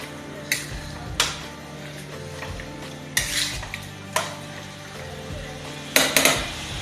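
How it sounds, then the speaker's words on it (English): A spoon knocks and scrapes against a metal pot as onion is stirred into jollof rice, with sharp clinks at irregular intervals over a faint low sizzle. "So we're going to stir it together."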